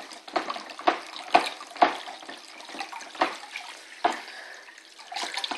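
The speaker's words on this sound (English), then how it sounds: "So I'm going to keep stirring this, get it all dissolved in." Water sloshing and splashing as Belgian ale homebrew wort is stirred in a fermenter of about 18 litres, with repeated soft splashes in an uneven rhythm, fairly close and alone.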